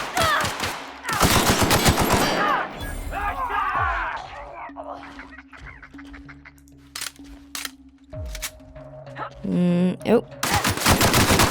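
Video game gunfire in The Outer Worlds: rapid automatic bursts and single shots, loud and close, mixed with game effects and voices talking over the action.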